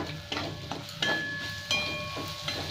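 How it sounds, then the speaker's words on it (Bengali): Spices with turmeric and cumin powder stirred and fried in a pan for kosha aloor dom, a steady sizzle broken by repeated scraping strokes of a spoon at an even rhythm. "মশলাটা একটু নেড়ে নিয়ে তারপর একটু জল দেবো"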